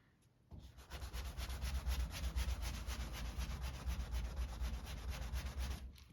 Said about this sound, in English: I'll be sanding all of it in this direction, just like this, on the whole panel for this 1000 grit